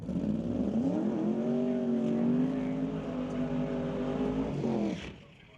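A drag racing car on an NHRA strip makes a license run, its loud engine holding a steady droning tone for several seconds before cutting off sharply, with faint talk in the background.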